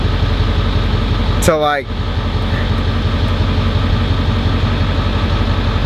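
A Ford truck with a race tune and transmission trouble idles with a steady, loud low rumble and rhythmic pulsing. A brief whistle-like chirp sounds early on, and a voice speaks briefly over the engine.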